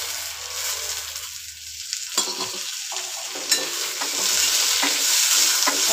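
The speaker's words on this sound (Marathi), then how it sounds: "आता त्यामध्ये मी हे तांदूळ टाकते" Rice poured into dry-roasted grated coconut in a pan for narali bhat, with steady stirring and scraping plus a light sizzle, a few sharper clinks of grains and spoon against the pan, close and continuous without talk.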